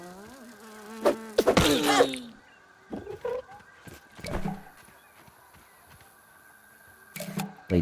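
Thin, steady buzzing of gnats in a spider video game, running as a faint drone through the clip while brief louder game sounds and effects pop in and out.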